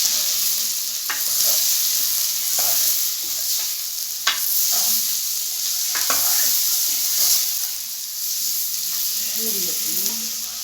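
Cauliflower and vegetables sauté in a hot pan while being stirred, with a steady sizzle throughout and repeated scraping strokes of a spoon, close and fairly loud, with no talk over it.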